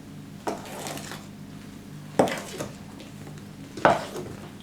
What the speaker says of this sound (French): Et cette fois, on mélange avec une spatule.